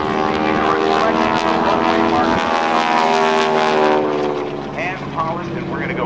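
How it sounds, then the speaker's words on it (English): An advanced trainer propeller airplane performing aerobatics at the NAS Oceana airshow gives a loud, continuous buzzing drone as it rolls inverted, with pitch shifts as it passes, under an announcer's commentary. "he's going to roll the airplane upside down"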